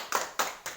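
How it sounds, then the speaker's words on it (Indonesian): Three sharp hand claps from a class of children being taught by a teacher in a classroom, fairly quiet and evenly spaced, with no voices over them. "Tepuk tangan."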